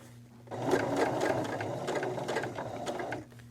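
A sewing machine stitching fabric around a curve: a close, steady mechanical whirr with rapid needle clatter that starts after half a second, runs evenly for nearly three seconds, then stops.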